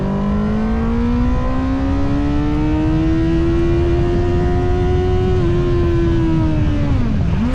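A CFmoto 500SR motorcycle engine revs high and steadily past eight to nine thousand rpm, a loud sustained whine with rising pitch that dips briefly near the end, heard up close with no talking.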